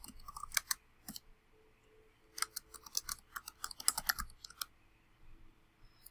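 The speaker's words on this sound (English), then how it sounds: "So I'm just going to type that in." Typing on a computer keyboard in a quiet room: scattered clusters of sharp, close key clicks with short pauses between them.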